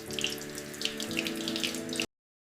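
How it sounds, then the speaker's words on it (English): Water runs steadily from a tap over a Lux soap bar being washed, a close splashing stream with small bright spatters, stopping abruptly near the end. "Water activates the Lux Soap surface."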